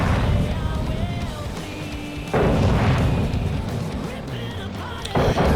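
Heavy naval gun salvos boom in World of Warships, with broad low rumbling blasts that surge again around the midpoint and near the end, loud and continuous under a busy battle soundscape.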